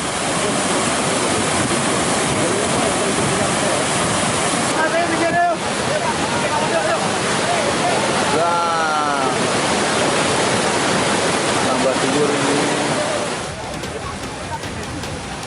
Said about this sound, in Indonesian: Arus sungai yang turun ke jalan raya pun semakin besar